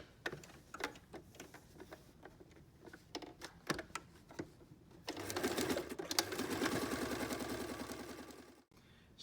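Sewing machine stitching lines along the left side of a needle case, scattered light ticks and taps at first, then a sustained close whirring run for a few seconds before it stops.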